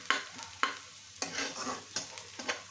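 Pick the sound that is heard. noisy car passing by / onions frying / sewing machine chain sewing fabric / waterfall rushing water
onions frying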